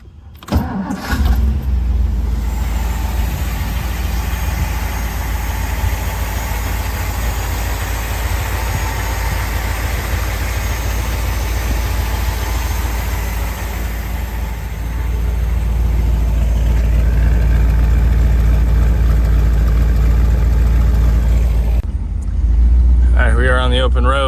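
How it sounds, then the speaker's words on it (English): A 1955 Ford Thunderbird engine cranks and catches, then settles into a loud, steady idle heard up close for a long stretch, with a brief revving rise near the end and a voice speaking briefly. "So let's fire her up and then take it for a spin."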